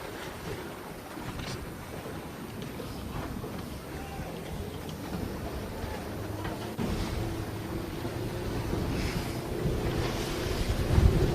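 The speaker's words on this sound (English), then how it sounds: "So, very windy now for the big rig." Strong wind buffets the microphone while waves slosh and crash around a big racing sailing yacht during an Australian championship race, with a low, faint voice partly buried under the gusts.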